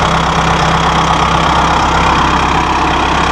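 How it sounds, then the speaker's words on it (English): The diesel engine of a Massey Ferguson 1760M compact tractor idles steadily and loudly up close, a constant low rumble with a faint whine, no voices. "Listen to that engine purr."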